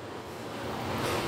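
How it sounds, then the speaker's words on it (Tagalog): Typhoon-force wind roars in a steady broadband rush during a signal no. 10 storm in Macau, swelling slightly louder toward the end with no voices. "Pabugso-bugso yung hangin. Minsan lumalakas, minsan wala, mahina."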